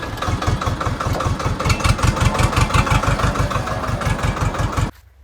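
A tractor engine runs loud and close with a steady, chugging idle pulse for about five seconds, then cuts off abruptly into near silence.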